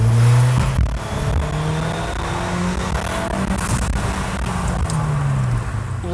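Inside a Ford Fiesta ST180 out on the road while its new EBC pads and discs are bedded in: engine drone that rises and falls with light revving, steady road and tyre noise, heard close from the cabin with no talking.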